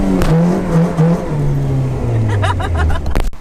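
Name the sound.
B-series car engine revving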